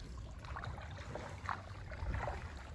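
Kayak paddling on a river in Kampot, Cambodia, with soft, irregular paddle splashes and water lapping over a low, steady wash of wind and water, close by and fairly quiet.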